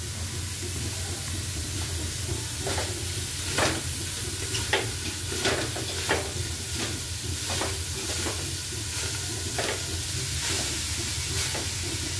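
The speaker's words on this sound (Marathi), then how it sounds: "पातेलं गरम झालेलं आहे. त्याच्यामध्ये आपण आता कांदा भाजून घ्यायचा आहे." Onions sizzle and crackle steadily in a hot pot for chicken dum biryani, with occasional sharp scraping taps of stirring scattered throughout.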